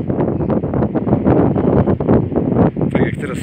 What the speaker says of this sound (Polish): Ten wiatr jest dość silny